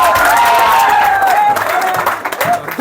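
A crowd claps and cheers loudly at a public political gathering in Uttar Pradesh, with steady sustained applause, whistles and shouting voices throughout.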